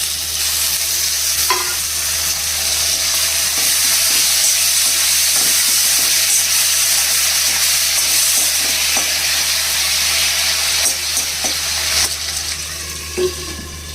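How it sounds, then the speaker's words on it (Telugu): Tomato pieces hit leafy greens frying in a pan, giving a steady loud sizzle and hiss throughout with occasional stirring clinks and scrapes, no talking. "టమాటా ముక్కలు వేసేసుకోవాలండి."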